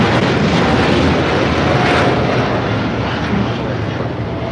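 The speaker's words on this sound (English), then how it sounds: "This is Nippon Cargo Airlines 101 taking off to Tokyo Narita on a 747-8 freighter." Nippon Cargo Airlines Boeing 747-8 freighter taking off from LAX: a loud, continuous jet engine roar that stays broad and powerful, fading slightly toward the end, with faint talk underneath.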